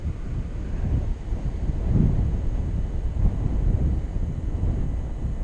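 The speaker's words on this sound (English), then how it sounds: "The wind is crazy." Strong outdoor wind buffets a drone pilot's microphone in steady, roaring low gusts that swell and ease without pause, loud and close throughout with no talk.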